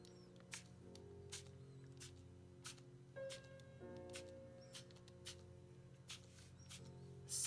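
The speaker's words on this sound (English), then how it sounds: "Now we can just bring in our spray bottle and" A spray bottle misting water onto inked card images, a series of short quiet sprays in an irregular rhythm, close by, over a low background hum.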